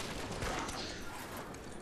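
Gunfire from the video game Lies of P, a dense burst of shots and mechanical clatter sounding loud and continuous over a busy game backdrop.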